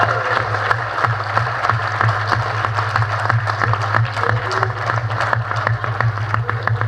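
A theatre audience applauds to welcome an actor onto the stage at an Urdu play performance, with steady, dense clapping that holds throughout.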